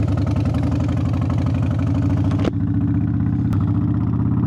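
A 2001 Harley-Davidson Softail Deuce motorcycle idles close by, its loud, steady loping V-twin beat with a brief dip partway through and no talking.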